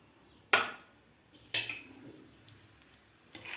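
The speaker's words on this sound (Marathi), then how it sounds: "आता आपल्याला व्यवस्थित भाजून घ्यायचे आहेत धने खोबरा आणि शेंगदाणे" Dry coconut, peanuts and coriander seeds roasting in a little oil in a pan, with two sharp utensil scrapes against the metal, quieter stirring between them and a third scrape at the end, no voices.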